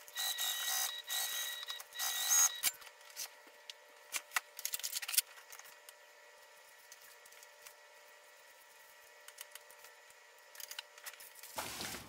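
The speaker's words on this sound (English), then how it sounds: "I trimmed up my corners just a little bit, and I trimmed up some of the overhang" Scissors trim fabric corners and overhanging edges, giving a cluster of crisp, close snips and clicks in the first few seconds, followed by near silence with faint scattered ticks.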